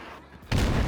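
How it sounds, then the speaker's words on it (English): Incoming naval gunfire in the World of Warships game, a quiet moment that abruptly gives way to a loud, dense roar of shell blasts and explosions filling the rest of the clip. "Ow, that incoming fire."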